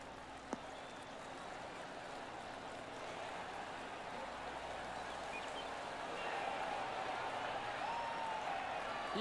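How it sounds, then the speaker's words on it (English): Golf gallery crowd applauding on a course in PGA Tour 2K23 after a hybrid shot, a steady wash of clapping and cheering that holds for several seconds and swells slightly toward the end. "Listen to that crowd."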